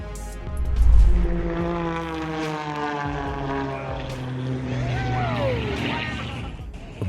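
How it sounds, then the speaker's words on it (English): A small propeller plane drones overhead as it circles an airport before an emergency landing, a steady engine hum with a loud swell early on, then holding level with a faint voice briefly audible. "The plane then circled the airport to dump fuel before attempting its emergency landing."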